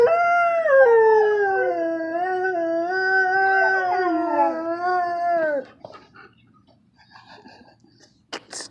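Huskies howling in a long, wavering, melodic howl that rises and bends in pitch for about five seconds, close and clear, then stops, leaving only faint small sounds and a brief soft noise near the end.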